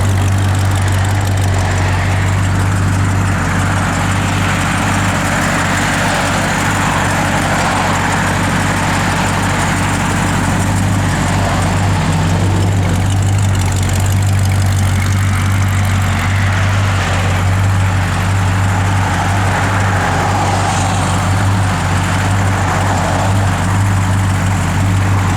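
A 1970 Plymouth Duster in factory FC7 Plum Crazy cruises down the road, its engine a loud, steady low drone heard from inside the car, constant throughout with no talking.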